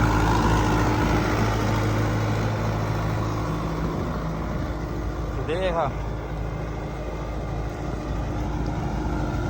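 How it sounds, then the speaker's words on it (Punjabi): A heavy HMT 5911 tractor engine drones steadily close by at full power, loud and unbroken, while a voice speaks briefly over it. "ਉਹ ਵੀ ਫੁੱਲ ਜ਼ੋਰ ਲਾਉਂਦਾ ਟਰੈਕਟਰ ਹਨਾ"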